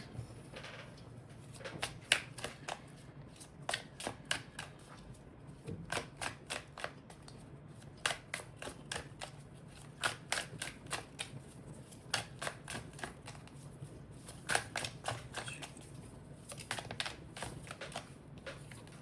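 A tarot card deck being shuffled by hand, heard as repeated close riffling bursts of quick crisp card flicks separated by short pauses, with no talking.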